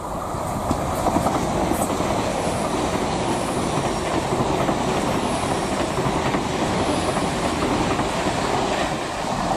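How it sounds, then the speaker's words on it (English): A new bi-mode passenger train bound from Plymouth to Paddington rumbles steadily past close by on the coastal line at Dawlish, with continuous wheel clatter and rail noise throughout and a faint high wheel squeal. "One of the new bi-mode trains."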